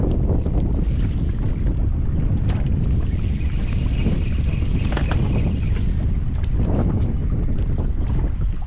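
Wind gusts hard across the mic aboard a small fishing boat at sea, a constant loud roar with water wash beneath and brief rattles and creaks of the hull.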